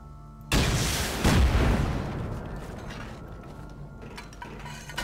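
A sudden loud gunshot blast bursts out in the video game Rust, followed by a second heavy boom and a long rumbling decay with mechanical rattling.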